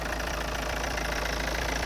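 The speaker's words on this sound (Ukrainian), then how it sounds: "Завівся бадьоро, поки зайвих звуків немає, щось підпискувати починає." A Peugeot crossover engine runs steadily just after starting, an even, moderately loud idle with a faint knocking texture and no voices.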